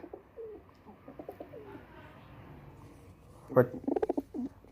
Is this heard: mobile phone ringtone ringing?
no